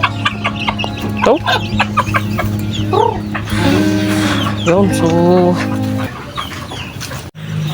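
Native chickens cluck steadily and close by in a flock at feeding time, with a single brief voice speaking over the birds.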